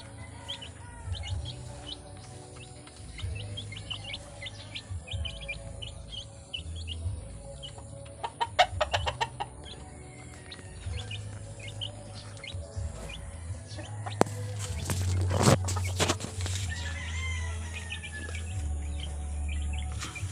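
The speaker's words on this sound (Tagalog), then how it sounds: "Yan po, malulusog ating mga alagang sisiw." Twelve-day-old backyard chicks peep and chirp in scattered, overlapping calls close by, over a low background hum, with a brief burst of louder activity partway through.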